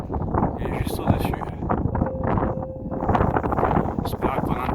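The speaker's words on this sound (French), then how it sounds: "J'espère qu'on entendra parce qu'il y a pas mal de vent quand même." Strong wind buffeting the microphone near a mountain summit at about 2650 metres on the Canigou, a continuous gusty rumble and rustle under a man's speech.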